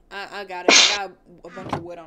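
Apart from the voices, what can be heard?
sneeze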